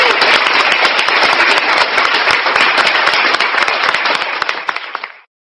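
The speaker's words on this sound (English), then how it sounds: "Give yourself a round of applause" Dense, steady applause from a crowd, loud and continuous for about five seconds before cutting off abruptly, with no talking over it.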